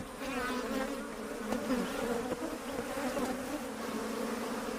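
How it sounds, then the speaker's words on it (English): African honeybees at their hive inside a tree in the Zambian bush make a steady, dense buzzing drone that holds at an even level throughout, with no voices over it. "African honeybees have built a hive inside a nearby tree."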